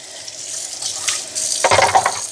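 Brush from a Narwal Freo Pro robot mop being rinsed under running water, a splashing tap stream that grows louder and more turbulent toward the end, close by, without speech.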